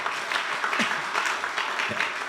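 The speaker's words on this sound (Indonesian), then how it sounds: "Beri tepuk tangan lagi buat Tuhan Yesus." Congregation at a GBI church worship service in Batam claps together, a steady broadband patter of many hands lasting a couple of seconds at moderate level, with faint voices mixed in.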